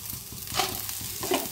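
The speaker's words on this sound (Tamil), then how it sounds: "எல்லாத்தையும் நல்லா வறுத்துக்கலாம் நல்லா வாசனை வர வரைக்கும் வறுத்துக்கலாம்" Spices are dry-roasted in a pan for a pumpkin sambar, making a soft, close sizzle punctuated by brief stirring scrapes, with no voices.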